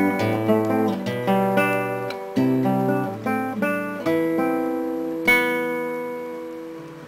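Solo acoustic guitar playing bars 9 to 11 of the intro: fingerpicked melodic phrases with ringing bass and chords, a few short pauses between phrases, then a strong strummed chord left to ring out, close and clear.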